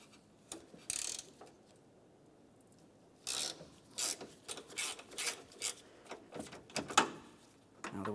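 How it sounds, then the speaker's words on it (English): A 5mm Allen head socket turning out the bumper mounting screws on a 2006-2011 Honda Civic, with bursts of scraping, ratcheting clicks in short runs separated by quiet pauses. "We'll put this right in place and turn these counterclockwise to remove them."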